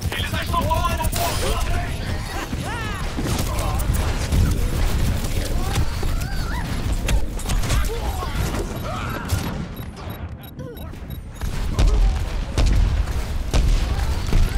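Gunfire and explosions from the Overwatch video game on the Ilios map, a dense, loud, continuous barrage of shots and booms with busy mechanical effects throughout, briefly thinning near the end before surging again.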